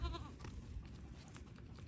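Goats in a pen being readied for winter give a short bleat at the start, then stay faint among soft rustling and shuffling close by, with no voices.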